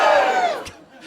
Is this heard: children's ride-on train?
no